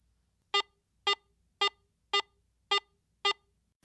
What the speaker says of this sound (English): Listen to the medium tone in standard mode